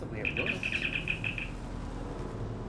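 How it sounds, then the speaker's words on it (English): A phone gives off a rapid series of high electronic chirps in the style of Star Trek sound effects, about a dozen short beeps in a quick burst, heard over game background noise while someone speaks. "Sorry about my phone chirping Star Trek sounds."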